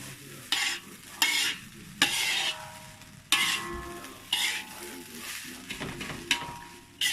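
Kampung-style fried rice with anchovies sizzles in a hot pan, with repeated scraping stir strokes cutting through a steady frying hiss.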